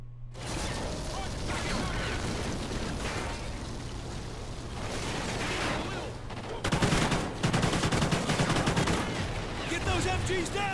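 Sustained automatic gunfire in a Call of Duty: Ghosts battle, dense bursts of machine gun fire over a low rumble, growing sharper and more rapid in the final seconds, with no voices.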